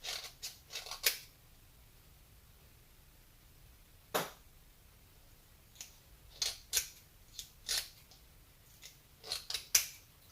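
Scissors snip through glue-covered paper in a string of sharp, close cuts, some in quick clusters and others spaced apart, with no talking.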